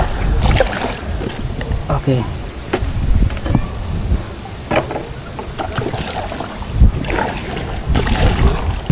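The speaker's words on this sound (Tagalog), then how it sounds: "Ang lakas ng hangin." Strong gusts buffet the microphone while kayaking on a lagoon, a rough, uneven roar with thumps and paddle knocks, and someone speaks briefly over it.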